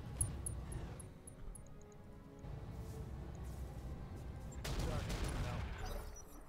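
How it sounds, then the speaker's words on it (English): Weapons fire at a vehicle in Battletech with the Roguetech overhaul mod, a quiet string of rattling shots and thuds with a louder burst near the end, under a low game backdrop with faint talk. "So I guess we're going to waste some shots on its fucking armor."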